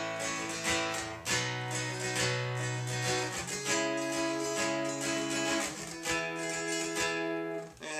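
An acoustic guitar plays a chord progression as barre chords, strummed steadily and fairly quietly, each chord ringing into the next with no talking.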